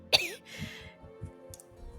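A man gives a short, sharp cough followed by a few quiet throat-clearing sounds, fairly close and alone.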